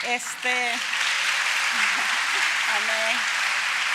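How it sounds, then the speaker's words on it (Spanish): Congregation applause at a Spanish-language church service fills the room steadily, a dense wash of clapping running throughout while a voice speaks over it at the start and end. "Si va a dar ese aplauso, déselo al Señor, y fuerte."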